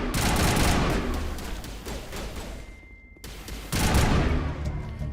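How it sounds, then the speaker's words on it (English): Sustained gunfire in a Mass Effect firefight, dense overlapping shots and automatic bursts running nearly continuously, loud and close, with a short lull before the shooting resumes. "Open fire. Open fire!"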